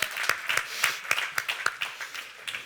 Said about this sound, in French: tu veux des applaudissements maintenant, pendant que tu montes.